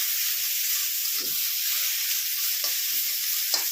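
Okra fries in a pan with fenugreek seeds and asafoetida, a dense, continuous sizzle close up, with occasional soft scrapes of stirring breaking through at irregular moments.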